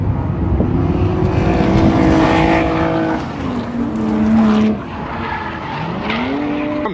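Stock Lexus IS300 drifting around a fast drift track, engine wailing loud and steady with pitch swooping as revs rise and drop, tires squealing and skidding continuously through the slides, close and loud with no talking.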